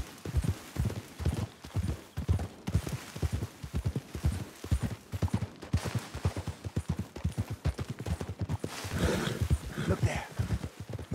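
Rapid clip-clop of a horse's hooves at a steady gallop in Red Dead Redemption 2, close and continuous, with occasional bursts of louder game sounds near the end.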